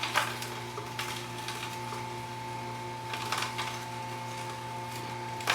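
An Omega juicer runs with a steady motor hum under intermittent grinding crunches as ginger is fed through, the bursts of crushing noise rising and falling over about five seconds.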